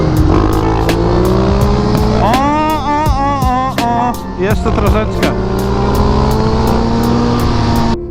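A KTM motorcycle engine revs hard during wheelie practice, rising in sharp pitch sweeps and then settling, loud and close, while someone speaks briefly over it.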